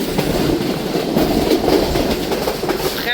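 The 28 Down Shalimar Express passenger train rolls along the rails with a steady, loud rumble and rhythmic wheel clatter, heard from on board, with no voices.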